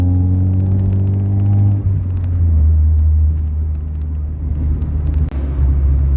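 Honda Accord CD5 with a cat-back exhaust and EGR delete revs at low RPM, a loud, close, droning engine note that rises and sags in pitch, with a sharp dip near the end and no talking.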